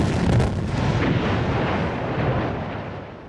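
Artillery fire in a historical documentary context, a dense, continuous rumble of booming blasts that stays loud and broad throughout, with no voices.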